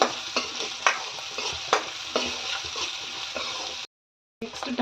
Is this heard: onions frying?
yes